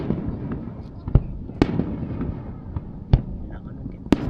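Fireworks at the Tanegashima gun festival in Japan, heard as scattered sharp bangs, about four distinct reports spaced a second or so apart, over a steady murmur of crowd noise and nearby voices.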